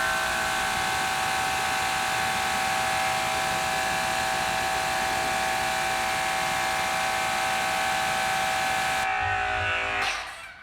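A Dewalt 2400 PSI electric pressure washer sprays through a turbo nozzle, a loud steady whine and hiss running continuously for about nine seconds before cutting off abruptly with a brief rattle at the end.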